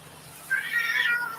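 A cougar or leopard gives a single short, raspy meow-like call, fairly faint, rising then trailing off over about a second, with no talking.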